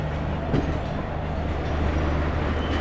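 An Indian Railways train running by on the Kanpur–New Delhi line, a loud continuous rumble with a low steady drone and faint rhythmic clatter, no one speaking.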